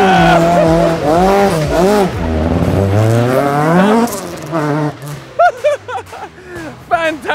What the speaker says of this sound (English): is going to do a donut here now.